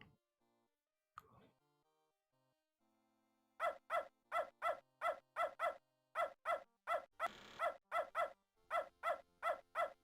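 A dog in the video game Beneath a Steel Sky gives a rapid series of about a dozen sharp, evenly spaced barks, loud and close, after a few quieter game sounds at the start.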